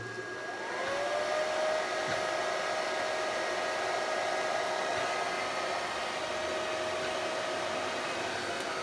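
A hair dryer whirs up and then runs steadily at close range, a constant airy roar with a high whine, no talking, while powering a Smart Lexron HMS-3K-24 hybrid inverter under repair.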